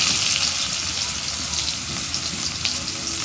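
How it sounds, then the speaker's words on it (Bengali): Spices and chopped onion fry in hot oil for a rohu fish curry, giving a loud, close, continuous sizzle with bursts of crackling spatter and no talking. "তো প্রথমে আমি মশলাগুলো কষে নেব তেলের মধ্যে।"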